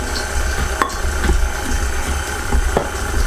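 Electric mixer whirring steadily as it beats cookie dough with semolina, egg and cashew, a continuous motor hum with a few soft knocks of the beaters against the bowl.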